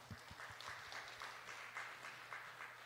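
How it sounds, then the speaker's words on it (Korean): Light applause from a church youth worship congregation, steady patter of claps lasting throughout, moderately distant with no voices. "하나님께 영광의 박수 한번 올려드릴게요."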